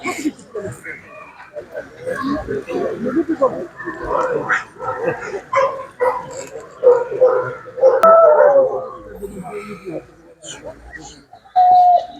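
Several Laika dogs, young males, barking and howling together outdoors at a dog show, with overlapping voices and chatter from people nearby throughout.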